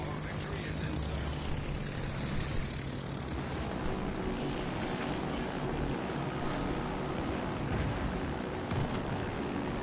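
Fighter aircraft launching from an aircraft carrier in the naval game World of Warships Legends: a continuous roaring propeller drone with wind-like rush, steady and loud, with a voice speaking over it.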